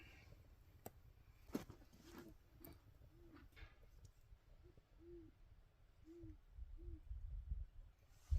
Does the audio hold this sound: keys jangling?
no